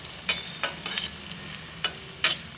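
Garlic and ginger fry with softened onions in a pan for Andhra-style chilli chicken gravy, with a steady sizzle under several distinct, sharp stirring strokes.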